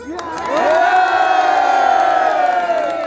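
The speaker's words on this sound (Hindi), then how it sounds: "मैं देखता हूं कितनी तालियां हैं आपकी" At the 7 Days festival by Khalti Lake in Ghizar, an outdoor crowd erupts in loud, sustained cheering and shouting, many voices rising together and holding a raised, wavering roar for a few seconds.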